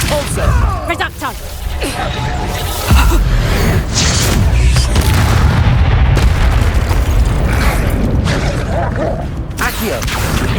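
Spell explosions and magical combat from the video game Hogwarts Legacy, a dense, loud run of booms, bursts and crackling blasts, with spoken spell incantations in the mix.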